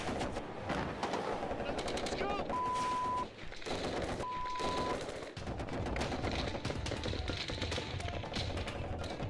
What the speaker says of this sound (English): Suddenly, the calm disappears in a barrage of gunfire and mortar rounds.